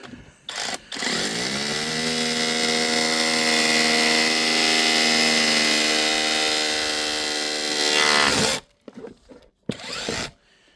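A loud rotary hammer grinds steadily into brick for several seconds, then stops abruptly, leaving a few short bumps and rattles.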